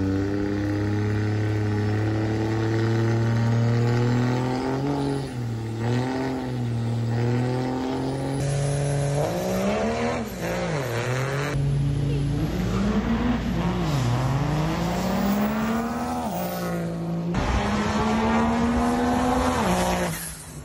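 Race truck in an ET class run accelerating hard down a drag strip, a loud close engine roar climbing through repeated gear changes with sharp pitch drops, lasting the whole pass.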